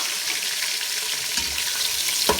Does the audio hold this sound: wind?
no